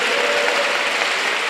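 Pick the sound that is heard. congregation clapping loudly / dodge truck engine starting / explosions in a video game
congregation clapping loudly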